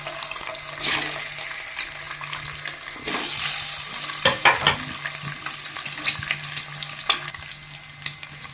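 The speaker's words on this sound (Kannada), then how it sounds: "ಈಗ ಎಗ್ನ ಒಂದೊಂದನ್ನೇ ಹಾಕ್ಕೊಂಡು ಸ್ವಲ್ಪ ಹುರ್ಕೊಳ್ಳೋಣ." Eggs frying in a pan with chili make a constant close sizzle, with intermittent spatula scrapes and clinks scattered throughout; no talking.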